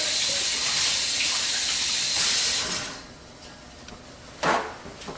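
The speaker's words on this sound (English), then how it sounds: "I'm going to rinse my hands real quick so that I don't hurt my eyeballs later" Running tap water pours steadily as hands are rinsed at a kitchen sink, a broad hissing wash for the first few seconds that stops, followed by a quieter pause and a brief splash or clatter near the end.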